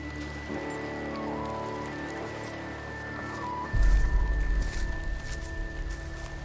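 Rain falling at a campsite in the horror video game The Quarry, a steady hiss over a low droning score that swells louder midway through, with no voices.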